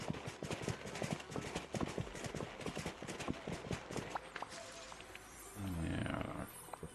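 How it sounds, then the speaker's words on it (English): Horse hooves clip-clop in a steady, rapid rhythm while riding through a video game world, dense and close for several seconds before fading as a brief swell of other game sound takes over. "Oh, I should just go on the horse, shouldn't I?"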